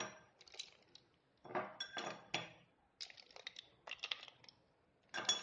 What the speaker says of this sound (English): Let's add ice first.